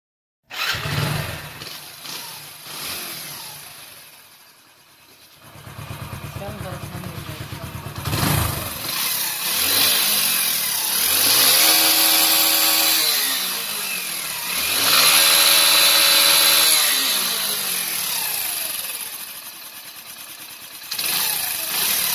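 A Hero Splendor Plus motorcycle engine runs after a rebuild with a new timing chain, wheel seals and gasket kit. It starts, idles, then revs up and down in loud repeated swells close by.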